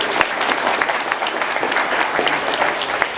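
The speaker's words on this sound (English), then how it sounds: "Give the President a round of applause." An audience applauds the President at a talk, a continuous, fairly loud round of clapping from a crowd with no voices on top.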